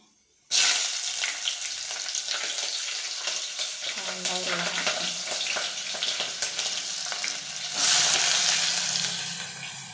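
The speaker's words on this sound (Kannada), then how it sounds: "ಸ್ವಲ್ಪ ಕರಿಬೇವು ಹಾಕತ್ತೀನಿ. ಒಂದು 3 ಮೆಣಸಿನ್ಕಾಯಿ ಹಾಕ್ತೀನಿ." Curry leaves and green chillies hit hot oil with a sudden loud sizzle that crackles steadily, with a second burst of spitting about two thirds through, close up in a home kitchen.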